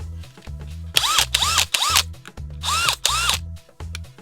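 DeWalt DCD999 hammer drill spinning up in four short bursts, loud and close, each a high whine that rises and drops back, with a motor hum between bursts.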